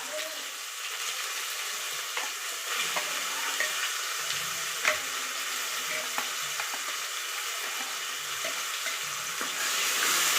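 Ground paste of cashews, shallots, cinnamon, cloves, cardamom and black cardamom frying in a pan for chicken curry, a loud continuous sizzle with scattered crackles and stirring scrapes throughout.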